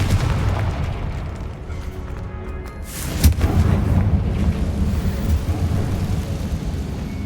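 A Confringo explosive spell cast in the Hogwarts Legacy video game goes off as a sudden loud booming burst partway through, over a steady rumbling game soundscape.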